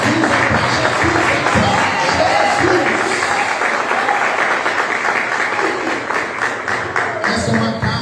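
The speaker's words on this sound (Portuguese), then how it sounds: "dar uma salva de palmas que glorifica ao Senhor" Church congregation applauding to glorify the Lord, dense sustained clapping filling the room throughout, with voices and cheering mixed in.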